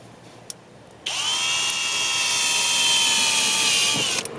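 A power drill bores holes into a plastic interior panel of a Ford Maverick truck, starting abruptly after a short quiet moment and whining steadily and loudly close by for about three seconds before stopping.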